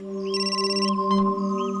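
A phone rings with a steady electronic tone over a constant low hum, a brief burst partway through, no voices.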